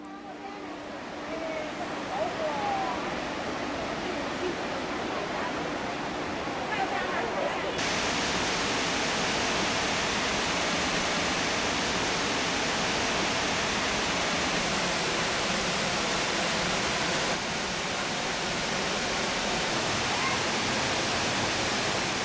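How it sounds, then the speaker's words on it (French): Huangguoshu waterfall, 71 metres high and 80 metres wide, roaring as a dense, steady, loud broadband rush of falling water, close and unbroken throughout. "Superbes sont les cascades de Huangguoshu."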